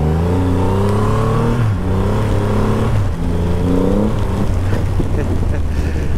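Triumph Rocket 3 GT motorcycle engine pulling through the gears while riding, a loud, close, continuous engine drone that rises in pitch, drops with each shift and climbs again.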